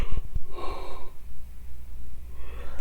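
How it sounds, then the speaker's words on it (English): A person yawns with a long drawn breath and a breathy, gasping exhale, close and fairly loud, followed by quieter breathing. "Sorry, yawning."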